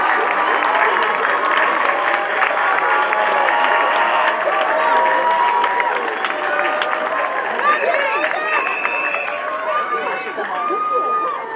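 Audience at a Queens College commencement ceremony applauding families, friends, faculty and staff, a dense and loud sustained clapping with crowd noise and some cheering throughout.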